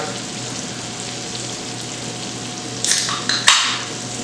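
BBQ shrimp sizzle in a hot pan with a steady, close hiss of frying, broken near the end by a few short scraping and clattering bursts as the shrimp are moved.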